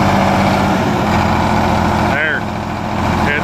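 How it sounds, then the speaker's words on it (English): A tractor engine with a faulty injection pump runs loud and steady, revving and idling with a rough mechanical drone throughout, while someone talks over it. "You gotta let her rev up before you let it idle down, or it'll just conk out"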